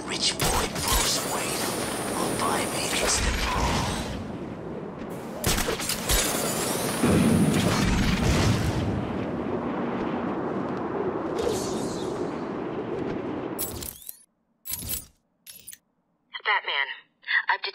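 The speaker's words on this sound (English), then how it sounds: "Sniper rifle firing again inside Arkham City" Sniper rifle fire in Batman: Arkham City, a dense, continuous burst of loud gunfire and booms for about fourteen seconds, then a few short sharp shots with brief electronic beeps and tones at the end.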